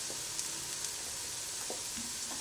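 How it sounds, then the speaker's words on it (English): Food frying in a pan for Peruvian tallarines verdes, giving a faint, even sizzling hiss throughout with a few tiny crackles. "Dejarlo que se fría por unos 5 minutos."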